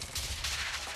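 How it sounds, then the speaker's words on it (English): Rapid bursts of gunfire in the video game Quantum Break, a dense, loud clatter of shots filling a brief moment with no pauses. "Why are they still shooting?"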